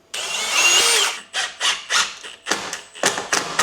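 A power drill drives a screw into the back hinge of an internal door being fitted, first one sustained whining burst and then several short stuttering pulses, close and loud with no talking.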